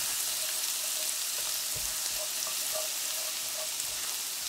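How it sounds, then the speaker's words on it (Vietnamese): Minced shallots and garlic fry in annatto oil in a pan, a steady soft sizzle with faint crackles and small pops scattered throughout, close by and with no talking. "Rồi mình cho hành tỏi băm còn lại vào, phi lên cho thơm"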